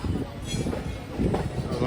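The Udaya Express, a double-decker train just departed from Katpadi, rolls along with a close, steady rumble and rattle that swells midway through the short stretch.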